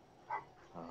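Dogs bark in a brief indoor burst: one short yelp near the middle and a second lower bark at the end, fairly faint over room noise.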